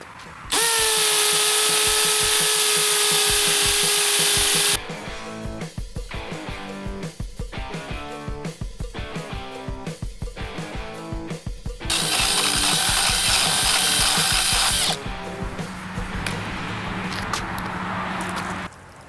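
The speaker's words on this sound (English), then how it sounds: "You can go up to 5/8 inch on a masonry bit and drill a hole right through this" A Makita XPH07 brushless 18V hammer drill with a 5/8-inch masonry bit bores into concrete, a loud close whine giving way to rapid rattling hammer action in bursts, then resuming with a high motor scream.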